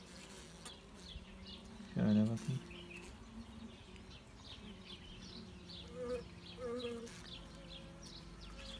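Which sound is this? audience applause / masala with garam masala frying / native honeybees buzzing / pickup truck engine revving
native honeybees buzzing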